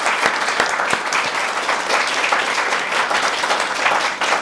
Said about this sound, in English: let's just give a round of applause for Joe.